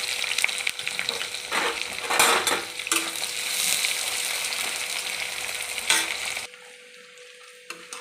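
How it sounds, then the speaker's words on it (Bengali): Dried red chillies and chopped onion fry in a wok with a steady, close hiss and sizzle, broken by scraping and clinking stirring strokes, before the sizzle quietens near the end. "কতগুলো শুকনো লঙ্কা দিলাম, পেঁয়াজ কুচিটা দিয়ে দিলাম।"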